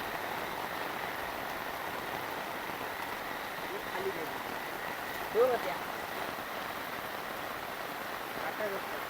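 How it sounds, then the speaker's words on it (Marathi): Heavy monsoon rain falls beside a stream at a field's edge in Konkan, a steady broad wash of sound throughout with a brief faint splash or knock midway. "पाऊस पण आता खूप जोरात पडायला चालू झाला आहे"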